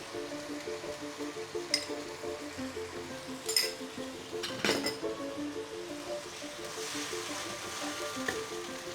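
A pan sizzles steadily on the heat as cornstarch slurry goes into the sauce, with sharp clinks of a utensil against the pan and light stirring, close and fairly quiet, no talk.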